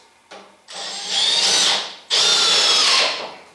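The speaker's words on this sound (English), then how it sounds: "countersinking it almost to the point where the bit holder touches the wood" A power drill drives and countersinks screws into a wooden reloading bench top over the joists, two loud whirring runs close by, the second rising sharply and holding steady, with no talking.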